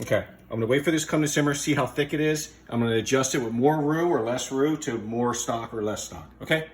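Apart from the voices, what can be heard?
No everyday noises stand out.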